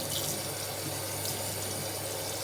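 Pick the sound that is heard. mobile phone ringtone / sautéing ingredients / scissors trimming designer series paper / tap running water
tap running water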